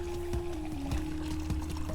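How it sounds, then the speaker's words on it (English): Aztec chocolate drink poured from a height to whip up foam, a steady liquid splashing over a low constant hum with a few soft knocks. "You're going to have to pour it from a height to get those bubbles."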